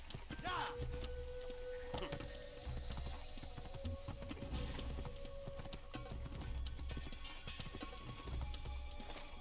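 In an Assassin's Creed game, a stolen horse's hooves clip-clop in a steady rhythmic patter under game ambience and a voice talking over it.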